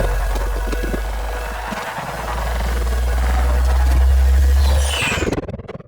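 Sci-fi sustain layer built from a gore sound library, a loud, continuous low throbbing drone with pulsing hum and a rising metallic shimmer, cutting off abruptly near the end; no speech.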